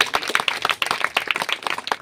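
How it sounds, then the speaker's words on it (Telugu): Church congregation clapping hands loudly together, a fast, uneven run of sharp close claps. "కొట్టు గట్టిగా చప్పట్లు."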